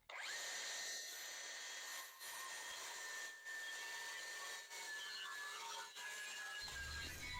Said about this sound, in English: to cut this taper for the leg, the kickstand, I think I'm just going to use the circular saw